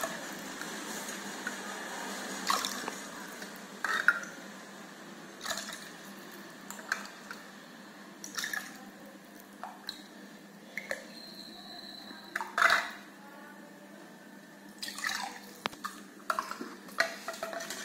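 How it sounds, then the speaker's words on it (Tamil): Neer mor, a thin spiced buttermilk, stirred in a vessel and poured into a glass, heard as faint, scattered clinks and soft swishes over a quiet background hiss. "இதை நல்லா கலந்துட்டு ஒரு கிளாஸ்ல மாத்தி நாம இப்ப பரிமாறலாம்."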